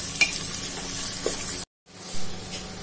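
Onions frying in a pan for a ridge gourd (turai) curry, a steady broadband sizzle with occasional stirring scrapes, briefly cut to silence before the frying hiss resumes.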